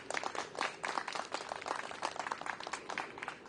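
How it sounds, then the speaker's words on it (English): A crowd claps for the lead card of the women's (FPO) division at the final round of the Portland Open disc golf tournament, heard outdoors and faintly. The applause is a steady patter of many hands that swells and dips for a few seconds. "Please give a big round of applause for our lead card"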